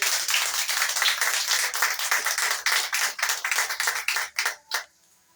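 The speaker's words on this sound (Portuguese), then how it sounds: "Pode sentar e glorificar o Senhor Jesus com palmas bem alegres." A church congregation claps steadily and loudly for several seconds, the applause thinning into a few last scattered claps before stopping.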